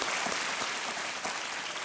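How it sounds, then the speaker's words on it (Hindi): Studio audience of a Hindi TV quiz game show, Kaun Banega Crorepati, applauding steadily in a dense, continuous wash of clapping throughout, loud and close. "एक बार तालियों के साथ अभिनंदन।"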